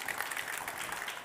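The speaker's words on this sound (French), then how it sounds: "Que l'on applaudit chaudement." Audience at an agricultural innovation awards ceremony applauds warmly, a brief, fairly quiet burst of dense clapping.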